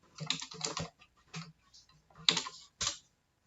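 Keys on a computer keyboard clatter in short irregular bursts of quick taps, close and fairly quiet, with brief pauses between clusters and no talk.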